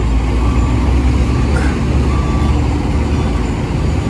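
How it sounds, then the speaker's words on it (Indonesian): A Wafa Holiday tour bus pulls away with a heavy, continuous diesel rumble, a loud, steady low drone lasting the whole stretch with no voices over it. "ini bis kita jalan Wafa Holiday"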